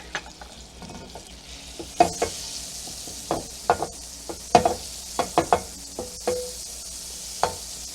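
An egg frying in a pan with a little olive oil and butter, a steady soft sizzle broken by repeated sharp scraping and tapping strokes of a spatula against the pan, close and clear, no talking.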